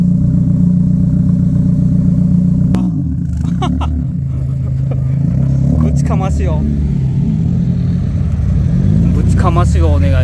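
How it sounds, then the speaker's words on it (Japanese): A modified, widebody car with heavily cambered wheels and a Kakimoto muffler idles and burbles loudly at a car meet at Shizuoka's Ecopa stadium. The steady engine drone and a few throttle rises run under nearby people talking. "これマフラー、柿本のマフラーかな。"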